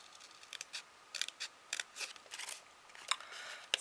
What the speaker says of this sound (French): Avec mon mini ciseau.